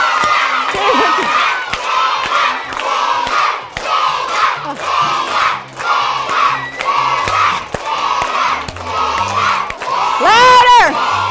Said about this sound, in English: start clapping and cheering as loud as you can